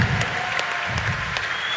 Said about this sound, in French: Si vous pouvez un tonnerre d'applaudissements, s'il vous plaît.